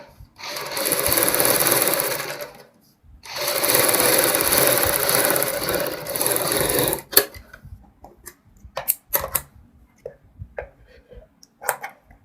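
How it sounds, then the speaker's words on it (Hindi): A sewing machine stitching piping onto buckram for a kurti neckline, running in two long bursts of several seconds each, then short stops and starts with clicks. "उतनी चौड़ी बुकरम के ऊपर सिलाई लगाएंगे।"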